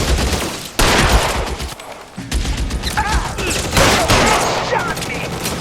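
Gunfire in an L.A. Noire shootout: loud bursts of shots and rapid volleys crowd the scene, pausing briefly near the two-second mark, with a few faint voices beneath.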